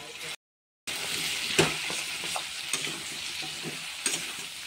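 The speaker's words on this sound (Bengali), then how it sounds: "একটু ভালো করে ভেজে নেব দুটো সবজি।" Two vegetables fry in oil with chilli, turmeric, cumin and coriander powder, a close steady sizzle broken by a brief gap and scraping stirs from a spatula against the pan.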